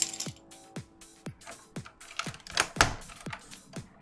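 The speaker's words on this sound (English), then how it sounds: "you're seeing how much force I'm applying to get some of these keycaps up" Alps keycaps are pried off a mechanical keyboard one after another, each making a sharp plastic click or snap. About eight distinct pops come at an uneven pace, close and fairly quiet.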